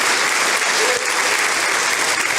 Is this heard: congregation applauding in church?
yes